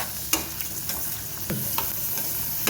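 Chana masala spices roast in a pan with a continuous close sizzle, broken by occasional scraping stirs. No voices.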